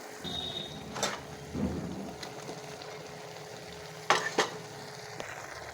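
Pumpkin greens cooking in a pan, with mixed vegetables tipped in, give a steady soft sizzle broken by a few louder clattering stirs and scrapes, and no one speaks.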